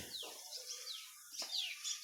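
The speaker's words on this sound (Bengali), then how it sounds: "পাখি ডাকতেছে গাছে" Birds call from the trees beside a village fish pond, with several clear, sweeping chirps and tweets, a couple of them close and bright, over an otherwise quiet outdoor background.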